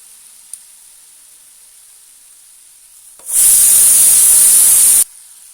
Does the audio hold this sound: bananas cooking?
yes